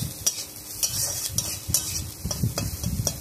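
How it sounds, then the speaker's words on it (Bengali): Spoon scraping and stirring through something frying in a pan with a little salt and turmeric, with a steady sizzle and repeated sharp clinks of utensil on metal, close and fairly loud, no voices. "এটা ভেজে নেব।"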